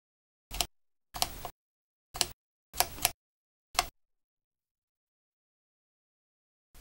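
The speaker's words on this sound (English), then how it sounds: "The shutter speed is set by rotating the shutter speed wheel." Five crisp mechanical clicks from the shutter speed wheel of a Contax Aria film camera sound close up at irregular intervals, some doubled, followed by silence.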